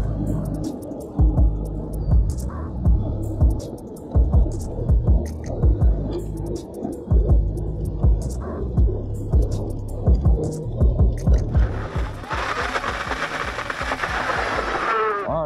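An Isinwheel D4 electric bike motor hums and throbs steadily under throttle while riding, with wind buffeting and rumbling over it and a broadband rush near the end.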